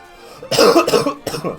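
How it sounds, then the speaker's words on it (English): A sick commentator coughs during a live esports broadcast: a short burst of two close, harsh coughs followed by one more, loud and near the microphone. "Sorry about the coughing"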